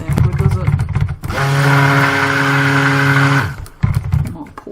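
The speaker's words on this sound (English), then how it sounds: "My poor stick blender." A stick blender mixing soap whirs loudly for about two seconds with a strained, droning hum, bracketed by bursts of nearby talk before and after.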